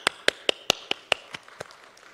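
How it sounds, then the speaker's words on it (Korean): At a lecture, an audience claps in about eight or nine sharp, evenly spaced claps that start crisp and loud and fade over two seconds. "박수 한번 하시죠"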